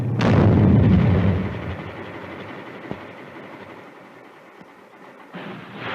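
A bazooka rocket launched from a battery-fired launcher goes off with a loud, close blast at the start, then a long rumbling roar fades away, with a sharp crack near the middle and a second burst at the end.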